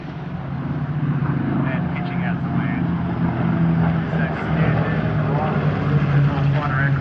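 Six Second World War aircraft, including a TBM Avenger, roar past together in a formation pass at an airshow in Shellharbour, a steady loud propeller drone under a voice talking over it.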